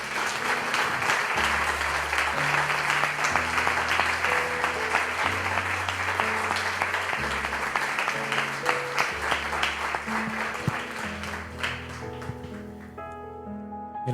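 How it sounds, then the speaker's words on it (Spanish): Loud, sustained clapping from a church congregation applauding the Lord during a service, with music playing underneath; the applause runs steadily throughout and thins out near the end. "Le damos un fuerte aplauso al Señor."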